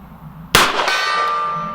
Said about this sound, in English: Try the gong here at 50 yards.